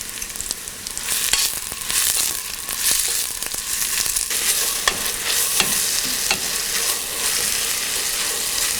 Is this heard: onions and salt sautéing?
yes